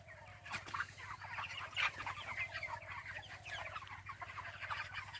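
A poultry farm holding about 2,200 chickens fills the air with dense, continuous clucking from many birds close by, with no talk over it.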